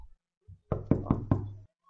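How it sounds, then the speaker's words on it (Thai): Four firm knocks on a door in the horror game Ghost Scape, evenly spaced and close, following a faint soft thump, with silence around them. "ใคร ใครเคาะประตู"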